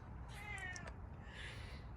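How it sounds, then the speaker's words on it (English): A house cat meows in a single drawn-out, rising and falling call, close and fairly loud, followed by a softer second vocal murmur, with a low steady room hum underneath and no talking. "And the cat says hi."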